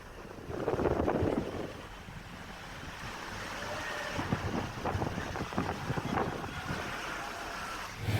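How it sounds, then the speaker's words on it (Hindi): Strong cold wind blowing outdoors on a stormy day with light rain, a steady loud rushing roar with gusts buffeting the microphone throughout. "तेज सर्द हवा चल रही है"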